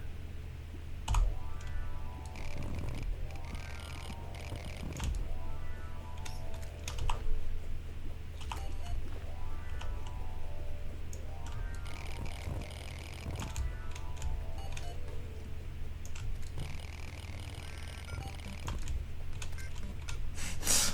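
Loud, continuous keyboard clatter with dense rapid keystrokes running the whole stretch, close and prominent over a steady background music bed.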